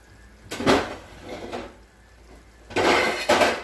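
A lid is set onto a cooking pot during a Spanish yellow rice with beef smoked sausage recipe: a few separate clattering metallic knocks and scrapes, close by, with short pauses between them.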